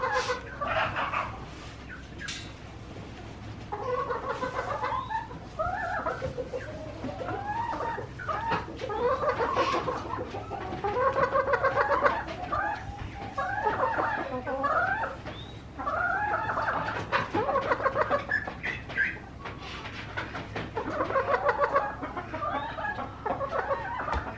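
Chickens cluck and chatter continuously, several birds close together, with no voices and a low background hum.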